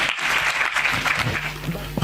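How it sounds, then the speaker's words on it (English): Congregation applause at a church service, dense and steady clapping from many people, loud and near, with a faint voice underneath toward the end. "Clap your hands beautifully for Master Jesus."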